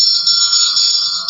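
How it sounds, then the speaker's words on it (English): An old doorbell of the altar-boy style rings in one continuous, bright metallic trill, close and loud, lasting just over a second before cutting off. "We got the haunted ringing doorbell."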